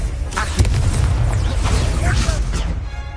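A Confringo spell explosion in the video game Hogwarts Legacy, a loud blast and rumbling burst that carries on under shouted game dialogue.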